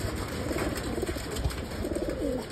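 Pigeons cooing close by, a steady stream of soft, throaty burbling coos with several birds overlapping against a faint background hiss.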